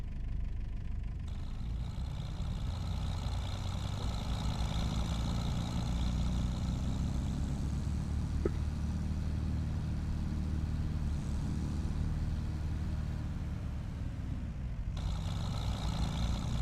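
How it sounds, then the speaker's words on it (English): An older Fendt tractor engine in Farming Simulator 25 runs steadily throughout, a loud, continuous low rumble with a brief mechanical click partway through and no talk over it. "the Fent you like is the older one with a proper engine sound"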